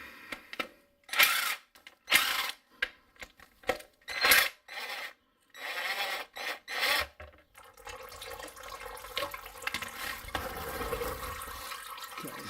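Bolts are loosened and pulled from the transmission pan of a Toyota Corolla with an A240L automatic: a series of close, sharp ratcheting and metallic scraping bursts, followed by a steadier, fainter rasping clatter.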